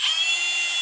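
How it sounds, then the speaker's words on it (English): Small handheld router running freely, a steady high-pitched whine, close and moderately loud, lasting under a second with no talking. "you want to use a little tiny handheld router"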